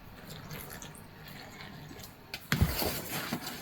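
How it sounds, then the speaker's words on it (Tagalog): Tap water runs into a bowl of corn flour and baking powder, a quiet trickle that swells into louder splashing partway through, recorded close up. "Lagyan natin ng tubig."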